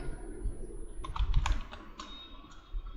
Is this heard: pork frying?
no